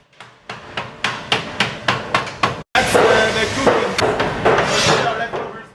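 A cooper drives temporary hoops onto an oak barrel with a hammer, about eight evenly spaced, ringing metallic blows, then a brief pause and a denser clatter of hammering amid workshop noise.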